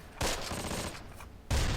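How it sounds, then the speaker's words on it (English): Gunfire in the WWII tactical video game Close Combat, set around a French village, comes as dense, muffled crackling bursts of a distant firefight, swelling sharply at the start and again near the end. "I'm hearing gunshots up here in the north, but I am not seeing anything"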